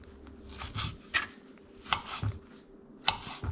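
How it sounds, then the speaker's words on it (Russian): A knife cuts a mango into pieces on a board, producing a few soft, separate chopping taps spaced unevenly, close and quiet. "Нарезаем одно манго кусочками в произвольной форме"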